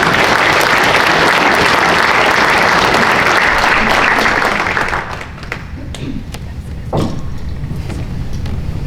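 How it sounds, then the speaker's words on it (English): A chamber of commerce awards banquet crowd applauds loudly for about five seconds, then the clapping drops off to scattered claps, thumps and room noise. "So you should give yourself all a round of applause"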